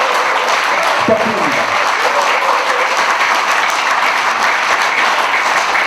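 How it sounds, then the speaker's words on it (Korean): Loud, continuous applause from an audience at a book-launch talk in the National Assembly Library, with a speaker's voice briefly rising over the dense clapping. "큰 박수"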